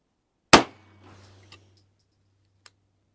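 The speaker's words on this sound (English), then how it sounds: "So I'm going to load and I'm going to shoot off target purposely." A single loud, sharp gunshot of G9 Defense ammunition fired deliberately off target during chronograph testing, followed by a faint ringing tail and a few small clicks, with no talk.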